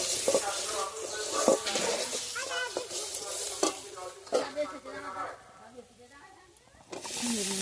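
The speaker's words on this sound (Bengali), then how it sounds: "দিয়ে ভালোভাবে আবারও একটু নেড়ে এর মধ্যে আমি সব সবজিগুলো দিয়ে দেবো।" Vegetables are stirred and cooked in a pan for a village-style coconut and broad bean curry, a loud sizzle with repeated scraping strokes of a spatula, ending in a quieter stretch before the sizzle swells again.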